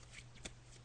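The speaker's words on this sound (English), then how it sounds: "So I'm just shuffling the cards." Tarot cards being shuffled by hand, a soft close riffle of papery flutters with one sharper slap partway through, heard alone without talk.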